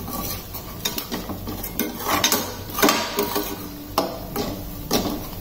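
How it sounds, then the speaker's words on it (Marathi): Spice masala being sautéed in a pan for surmai fish cutlets, with repeated scraping and clinking of a spoon against metal in uneven strokes over a soft sizzle close by. "पुन्हा सगळं छान परतून घेऊया अशा पद्धतीने"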